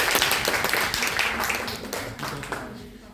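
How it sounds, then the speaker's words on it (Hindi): Dense, steady applause at a National Science Day celebration, many hands clapping at once, sustained for a few seconds before thinning slightly. "इतना जोरदार तालियां बाबा जी के लिए"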